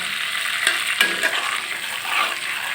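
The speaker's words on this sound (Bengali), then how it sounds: "দিয়ে দিলাম বোম্বাই মরিচটা" Bombay chilli dropped into hot mustard oil with whole five-spice in a wok: a lively crackling sizzle with a few sharp pops and spatters near the start, settling into steady frying.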